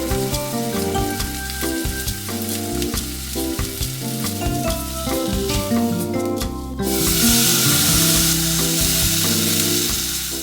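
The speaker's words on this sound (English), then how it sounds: "Using the same skillet, cook the bulgogi skirt steak on medium-high heat." Bulgogi-marinated skirt steak frying in a skillet over medium-high heat, a steady close sizzle with stirring. About two-thirds of the way through it jumps to a louder, brighter hiss, as when liquid hits the hot pan.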